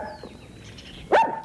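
A dog gives a single sharp bark near the end, loud and close, after a quiet stretch with faint tonal background sounds.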